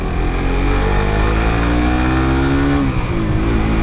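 A Suzuki GSX 150R motorcycle engine drones loudly and continuously during a test ride, its pitch climbing steadily as it accelerates, then easing briefly before rising again.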